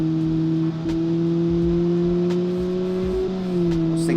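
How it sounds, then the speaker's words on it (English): Steady drone of a single-overhead-cam engine from a 1956 Gasmea car in the Automation game, holding roughly constant revs with slight pitch dips, close and continuous with no talk. "It's only an overhead valve engine."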